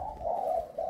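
Spotted dove about ten months old giving a single soft, mellow coo, close and clear against a quiet background.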